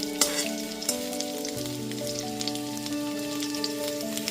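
Moringa drumsticks with potato and pumpkin fry in a pan, giving a steady close sizzle with occasional stirring scrapes and a faint sustained tonal hum underneath, no talking.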